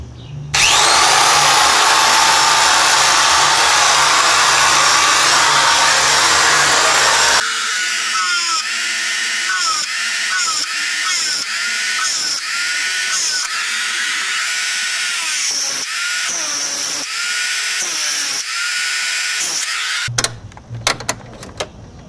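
An electric drill powered from an inverter whirs loudly and steadily at close range, then stutters through a series of short bursts and speed changes before cutting off near the end.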